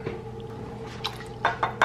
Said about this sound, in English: 2 tablespoons water and 2 tablespoons maple syrup.